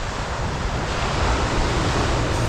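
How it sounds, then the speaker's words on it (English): Ocean waves at Lulworth bay on the Jurassic Coast rush continuously onto the shore, producing a loud, broad steady wash mixed with wind buffeting the microphone and no voices. "Wow, man, there's some really nice waves."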